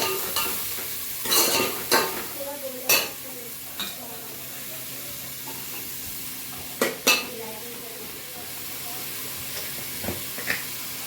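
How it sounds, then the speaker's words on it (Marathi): Capsicum, cabbage and spring onion sauté in ghee and oil in a pan, with a steady loud sizzle broken by scraping stirs and clanks of the spatula against the pan. "चांगलं परतून घेणार आहे तेलावर."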